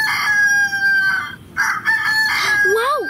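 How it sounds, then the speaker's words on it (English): A rooster crows loud and close at a farm, with a drawn-out, ringing call in a few bursts. A high, gliding voice joins at the end. "It's a rooster."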